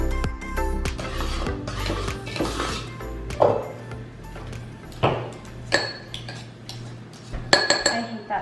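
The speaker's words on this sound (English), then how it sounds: "I hate the sound of like forks and stuff going together" Forks and other cutlery clink and scrape against a mug and dishes during a home baking session, with a run of irregular metallic taps and sharper rattles at close range.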